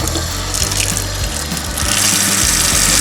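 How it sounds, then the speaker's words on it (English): Water runs at full flow from a Delta single-lever kitchen faucet after a cartridge replacement, a loud, steady rushing splash into the sink with a low hum underneath. "The water's fully on."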